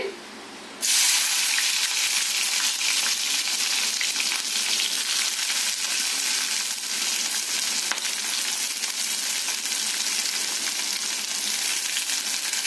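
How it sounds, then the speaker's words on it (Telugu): Chopped onions and green chillies dropped into hot oil for a chana dal and amaranth curry burst into a loud, steady sizzle that holds evenly after a quiet opening moment. "ఆయిల్ వేడయ్యాక మనం ముందుగా కట్ చేసుకున్న ఉల్లిపాయ పచ్చిమిర్చి వేసుకుందామండి"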